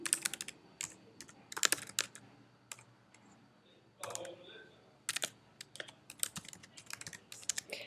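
Username being typed on a computer keyboard at a portal log-on page, heard as close bursts of quick key clicks separated by short pauses.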